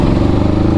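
A Kawasaki Versys 650 motorcycle engine gives a loud, close, steady burble with an even pulsing rhythm across a very short moment.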